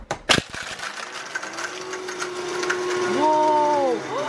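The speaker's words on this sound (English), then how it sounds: "let's Vitamix it" A Vitamix blender crunches through vitamin C tablets, first with sharp clattering knocks, then a rising motor whine that climbs steeply in pitch near the end, loud and close.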